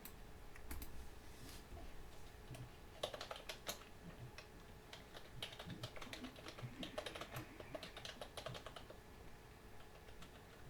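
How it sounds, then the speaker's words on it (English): Rapid, quiet keystrokes on a computer keyboard come in uneven bursts with short pauses, sounding close and faint, with no talking. "I have to type a description."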